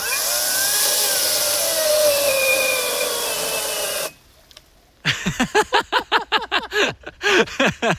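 A GTM or Leader cordless saw whines steadily for several seconds, stops briefly, then cuts again in rapid, pulsing bursts as the blade bites repeatedly.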